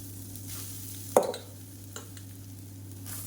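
Cooked rice being stirred together with spice powder in a hot pan for kara podi rice, with a single scraping stroke of the spoon, a second softer one, and a faint sizzle underneath.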